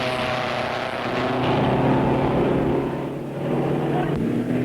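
Racing cars from 1959 circle the Bathurst course late in the race, their engines droning loudly and continuously, rising and falling as they pass, with a rough, mechanical roar and no talk.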